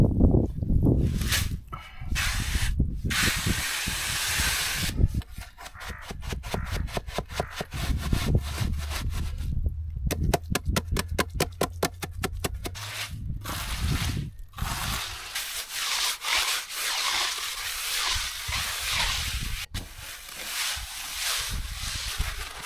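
An edging trowel works wet cement on a footpad at an old shallow-well pump house. Close, gritty scraping strokes repeat in uneven passes, with a quick run of rhythmic rasps in the middle and brief pauses between.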